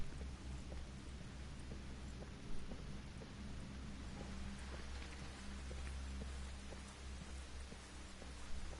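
Soft, steady video game rainfall in Ghost Recon Breakpoint patters throughout with a low rumbling background, faint and continuous, with scattered drops ticking here and there.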